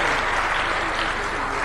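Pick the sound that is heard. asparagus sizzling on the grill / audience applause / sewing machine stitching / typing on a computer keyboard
audience applause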